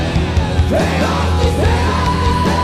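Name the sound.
heavy metal singer's shriek in a song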